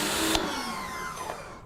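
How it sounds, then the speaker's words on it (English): A pressure washer spraying tyre cleaner off a car wheel: a loud, steady hissing jet of water, close by, running without a break through the whole moment. "Now, let's go ahead and rinse it off. So we've got the pressure washer"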